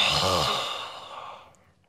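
A forceful breath is pushed out through the mouth with the tongue stuck out during a yoga exercise, one long breathy exhale that fades away over two seconds.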